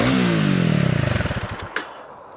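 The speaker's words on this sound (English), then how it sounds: "Nice single cylinder burble." A 2025 Honda CRF300 Rally, a 286 cc liquid-cooled single-cylinder motorcycle, runs loud and close with a thumping burble whose firing pulses slow and fade away over about two seconds, followed by a brief clack.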